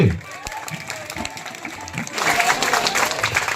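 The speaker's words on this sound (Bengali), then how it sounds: "এখন একটু জোরে করতালি হোক সবাই মিলে" A village crowd in Arambagh claps loudly at an inauguration ceremony for a project turning toilet waste into organic fertilizer, with sustained applause that swells toward the end, while a voice talks over it.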